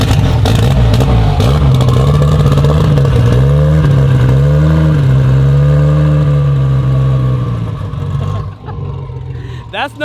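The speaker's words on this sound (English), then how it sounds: "That's no 2J, that's that sound of that Inline-6 Barra." A turbocharged 4.0-litre Barra inline-six in a Foxbody Mustang, loud and close, holding a steady rumbling idle with rising and falling revs before settling and cutting back near the end, with voices faint beneath.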